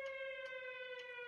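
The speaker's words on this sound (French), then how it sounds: "Ce Noël était rythmé par les sirènes du couvre-feu." A curfew air-raid siren wails in a steady, sustained tone with strong harmonics, sounding distant and moderately faint for a little over a second.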